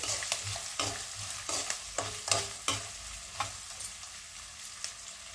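Tomato and egg fry stirred in a hot pan, a spatula scraping in a dozen or so sharp strokes over a steady low sizzle, close and fairly quiet with no voices.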